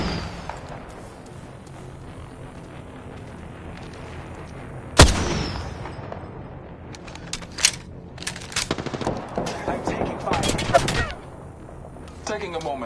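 Gunfire in an Apex Legends match, starting as a quiet background rumble and then breaking into sharp close-range bursts of automatic shots and a few louder single cracks, with a voice talking at times.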